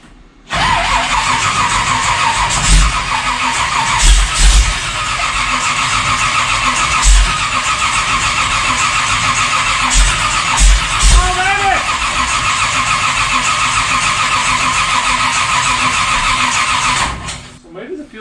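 An old engine on a car is cranked with a turbo starter and catches, settling into a loud, steady running drone that fills the clip before cutting off near the end, with a few knocks and voices in the background.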